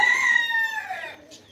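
A rooster crows once, a long drawn-out call that fades at the end, with faint clucking nearby.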